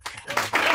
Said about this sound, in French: Par applaudissement des profs.